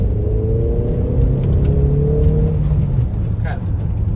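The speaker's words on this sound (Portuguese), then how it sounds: "Vou dar um acelerado leve aqui." A 2003 Mercedes-Benz A 190 with a 1.9 engine gets a light rev, its hum climbing in pitch for a couple of seconds before settling back to idle, heard up close while someone talks.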